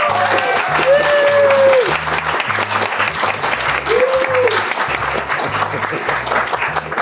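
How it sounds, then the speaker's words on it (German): Steady applause from a crowd greeting someone entering a tavern scene during a pen-and-paper role-playing session, dense and continuous throughout, with a low rhythmic background pulse and a brief tonal sweep above it. "Und als der namenlose Erzähler den Raum betritt, klatschen alle."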